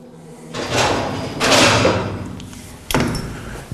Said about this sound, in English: This power drive unit, pull down the tiller, drive forward.